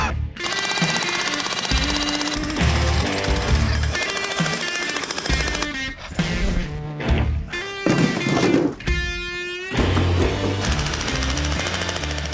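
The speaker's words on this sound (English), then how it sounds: "The rest is just jackhammering." A jackhammer pounds through a masonry wall of concrete block and brick in long, loud, rapid bursts with short pauses between them, close by, with no voices.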